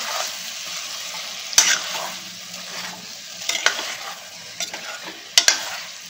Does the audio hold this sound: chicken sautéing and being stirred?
yes